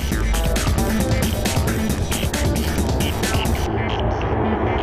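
Airbus A380 airliner on final descent after a steep turn to line up with the runway, a loud continuous roar of jet engines with throbbing low rumble and broadband hiss, steady throughout, with faint crowd noise beneath.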